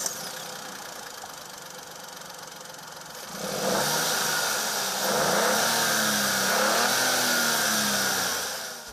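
A Hyundai i20 with a one-litre turbocharged three-cylinder engine runs steadily, then its note rises and thickens as the engine works harder, a continuous close, moderately loud drone with no voices.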